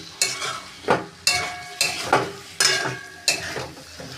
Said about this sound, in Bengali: দিয়ে ভালো করে মশলার সাথে কষিয়ে নিচ্ছি।